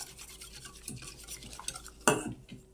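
Stirring a dessert mixture in a pot, with soft scraping and swishing strokes at an even pace and one louder clatter near the end, close by and fairly quiet.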